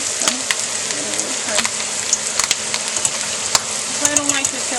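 Beef taquitos fry in hot oil in a home kitchen, a dense, steady sizzle heard up close with crackling pops and occasional sharp taps of a utensil turning them throughout.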